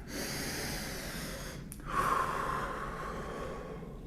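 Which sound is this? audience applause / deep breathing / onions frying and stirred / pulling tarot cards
deep breathing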